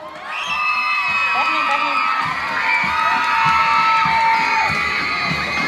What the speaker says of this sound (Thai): ขอเสียงกรี๊ดดังๆให้กับสีฟ้าเลยครับผม